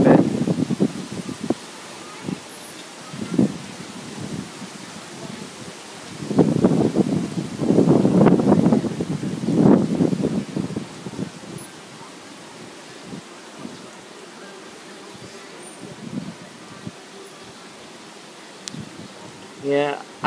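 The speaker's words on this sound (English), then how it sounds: "Holy crap, that wind." Strong gusting wind ahead of an approaching tropical storm near Hawaii buffets the microphone in rumbling surges that rise and fall, with a person talking over it at times.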